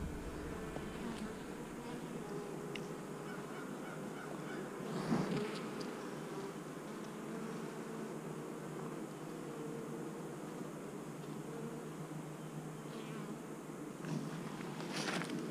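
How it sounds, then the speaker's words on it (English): Honeybees buzz around a two-frame nuc hive in a soft, continuous outdoor hum with occasional closer fly-bys, all faint and steady throughout. "The bees don't seem very nervous. A lot of pollen coming in."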